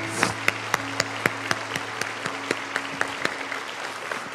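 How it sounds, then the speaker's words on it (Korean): Rhythmic, evenly spaced clapping from a church congregation after a pastor's sermon at a dawn prayer service. The steady beats come quickly and are fairly loud, with a low steady hum underneath. "귀한 말씀 전해주신 조영민 목사님께 다시 한번 박수 드리겠습니다"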